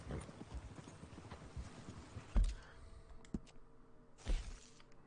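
Horse hooves clip-clop in Red Dead Redemption 2: a quick, steady run of close hoofbeats, then a couple of louder sharp knocks with quieter tapping between them.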